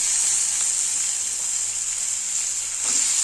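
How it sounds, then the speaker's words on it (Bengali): Panch phoron and dried red chilies sizzle in hot oil, a steady bright frying hiss that holds close and unbroken, swelling slightly at the end. "একটু হচ্ছে তেল দিয়ে রাখলাম, 5 ফোড়ন আর শুকনো লঙ্কা ফোড়ন দিয়ে দিচ্ছি"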